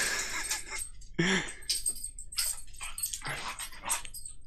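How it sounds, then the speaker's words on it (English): Several dogs bark excitedly at a distance in a house, erratic bursts of barking and yips over a couple of seconds. "that's why the dogs are going crazy"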